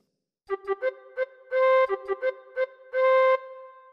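Old MacDonald Had a Farm played solo on a tin whistle, a bright, pure-toned melody of short tongued notes with a couple of longer held notes, close and clear with no other sound.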